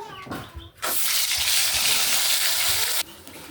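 Shrimp hitting hot oil in a pan with turmeric and salt, erupting into a loud, dense sizzle that holds steady for a couple of seconds before dropping back after some light handling noises.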